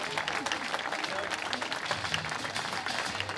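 An audience applauds the H4 podium winners at a 2023 Handisport awards ceremony. The clapping is moderate and steady, with a crowd murmur mixed in, throughout the short stretch.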